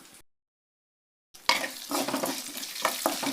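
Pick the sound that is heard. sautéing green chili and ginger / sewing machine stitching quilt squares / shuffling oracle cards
sautéing green chili and ginger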